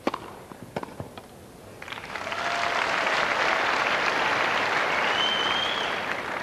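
A raucous Wimbledon crowd at the 1999 third-round tennis match between Rafter and Enqvist bursts into loud, sustained applause. A few sharp claps come first, then dense clapping swells and carries on steadily to the end.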